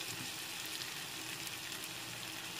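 Mixed vegetables and capsicum fry in a pan for Maggi noodles, a steady, close, dense sizzle with a faint undercurrent of stirring, no voices.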